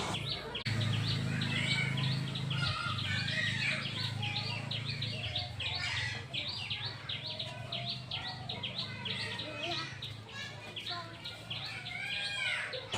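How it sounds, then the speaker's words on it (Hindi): Many birds chirp and tweet in a busy, continuous outdoor chorus, with a faint low hum underneath. "ये जो चिड़िया का आवाज़ है ना"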